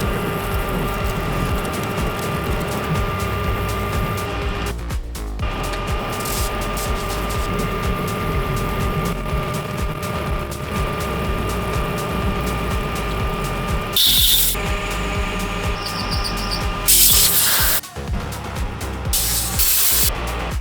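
A lathe turning the steel shaft of a powerlifting squat bar down to just under 35 mm, a loud steady machining drone with tonal whine, broken by a few short gaps and sharper bursts.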